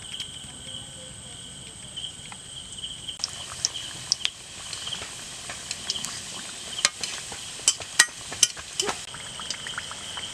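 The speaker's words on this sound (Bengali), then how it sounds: "আর সিঙ্গাড়াগুলো হালকা গরম তেলে ভাজতে হবে" Singaras (samosas) frying one by one in lightly heated oil, giving a soft, continuous bubbling sizzle with scattered crackles and pops that grow busier toward the end.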